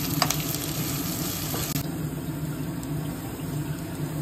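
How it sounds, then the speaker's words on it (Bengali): Thinly sliced onions fry in a wok with a steady, close hiss of sizzling oil, opening with a few quick clattering touches, then settling into an even crackle. "ওই কড়াইতে ঝিরিঝিরি করে কেটে রাখা পেঁয়াজগুলো দিয়ে দেব, দিয়ে লাল করে ভেজে নেব।"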